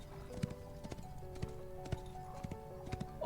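Horse hooves clip-clop in a steady walking rhythm in an online video game, close and fairly quiet, with no talking.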